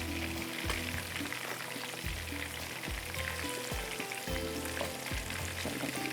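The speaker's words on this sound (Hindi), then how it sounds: "ये हमारा ये फ्राई हो रहा है, दोनों साइड से पलट लिया, स्लो फ्लेम पे हो रहा है" Chicken tikka boti frying on a tawa over a slow flame makes a continuous close sizzle, with regular low thumps recurring roughly every second beneath the steady crackle.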